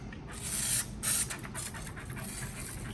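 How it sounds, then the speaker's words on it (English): Water from a hose sprays into the dirty oil pan of a 2004 Land Rover Discovery 2 during an engine rebuild: a steady close hiss with two louder surges in the first second. "Just give it a quick little hose down"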